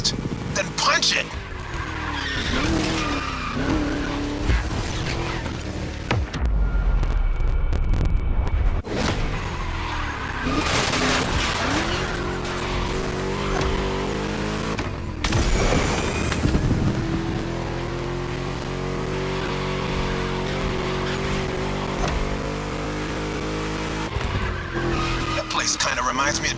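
A V8 engine roars and revs through a racing lap in The Crew Motorfest, loud and close with tire squeals, skids and gear-shift dips, while a voice talks over the engine noise.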